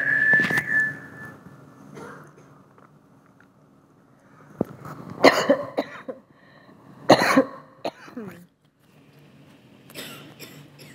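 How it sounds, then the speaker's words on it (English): A few short coughs and throat-clearing sounds close by, spaced out over several seconds with quiet gaps between them. "I have a little cough"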